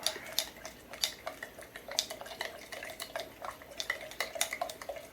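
Steady clinking and scraping of a utensil stirring inside a pot, a rapid uneven rhythm of light metallic taps, close and fairly quiet.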